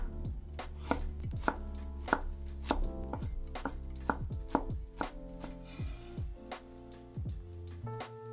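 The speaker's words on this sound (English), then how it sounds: "Next, mince some ginger." A knife mincing ginger on a cutting board for a smashed cucumber salad: a quick, steady run of sharp, close chopping knocks, about two per second, clear and alone with no voices.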